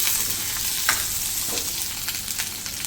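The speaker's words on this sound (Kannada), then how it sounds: "ಒಂದು 2 ನಿಮಿಷ ಹುರ್ಕೊಳ್ಳೋಣ ಈರುಳ್ಳಿ" Onions fry in a pan for a Hogenakkal-style fish curry, giving a steady, dense sizzle and crackle with a few light stirring clicks, close and unaccompanied by talk.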